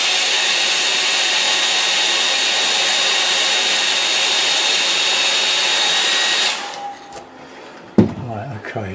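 A hair dryer blows loud and steady over a watercolour painting for several seconds, then cuts off, leaving brief rustles and a short burst of speech.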